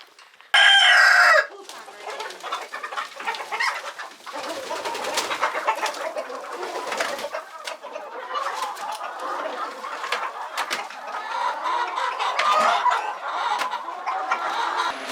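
A flock of chickens clucks and chatters steadily nearby, with one sharp, loud squawk near the start standing out above the rest.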